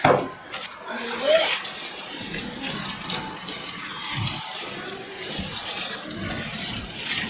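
Boiling water is poured onto wood in one long, steady stream, a continuous close-up splashing hiss that runs from start to finish.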